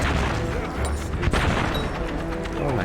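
Dense, continuous battlefield explosions and gunfire from the World War video game Valiant Hearts, loud and rumbling throughout with a sharp blast near the middle, a voice faintly present underneath.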